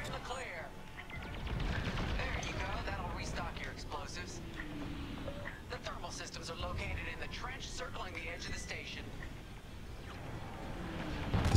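Turret blaster fire in Star Wars: Squadrons space combat. Rapid, fairly faint bursts of shots keep coming over a steady rumble while a person talks.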